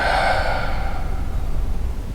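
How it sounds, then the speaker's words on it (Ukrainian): A slow, audible exhale during a static yoga practice, a breathy airy rush that fades gradually over about two seconds, with no talking. "Дихаємо тут вдих, видих."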